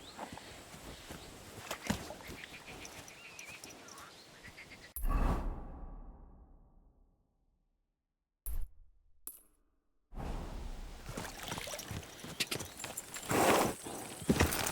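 A horse in the video game Kingdom Come: Deliverance 2 clip-clops along with steady hoofbeats, then the sound drops out into near silence before the hooves and movement return, fairly close and moderately loud.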